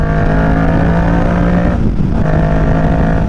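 A 2023 Kawasaki Ninja 650 parallel-twin engine drones loudly and steadily, dipping briefly midway as it downshifts before the revs return, with constant wind noise and no talking.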